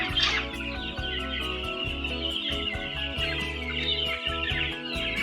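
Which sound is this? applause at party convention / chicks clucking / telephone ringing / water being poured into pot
chicks clucking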